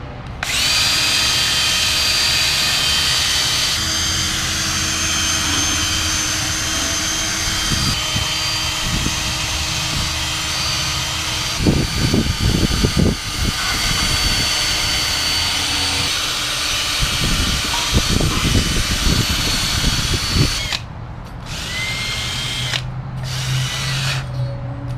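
A cordless drill spinning a wire wheel against rusty metal to strip surface rust before painting, a loud steady whir with rough scraping bursts as the brush bites, continuing nearly nonstop.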